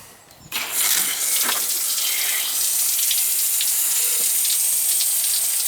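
A leaking outdoor shower with a frozen, worn head starts up abruptly and then runs as a loud, steady hiss of spraying water close by, with faint splashes and no talking.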